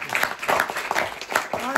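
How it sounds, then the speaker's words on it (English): An audience claps for the Bukharian Jewish community at a talk, a dense patter of hands running through the whole stretch with voices talking over it. "Let's clap the hand for the Bukharian community."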